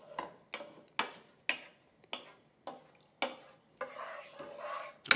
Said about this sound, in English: make sure that the panch phoran seeds are mixed well and truly through with that tomato.